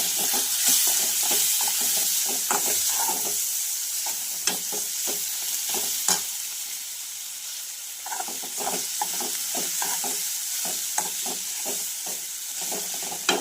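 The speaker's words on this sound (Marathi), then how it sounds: "तर यामध्ये आलं लसूणची पेस्ट घातलेली आहे आणि छान याला परतून घ्यायचं आहे।" Ginger garlic paste is sautéed in a pan for kurma. A steady sizzle runs throughout, layered with repeated scraping and stirring strokes from a spoon against the pan, close and with no voices.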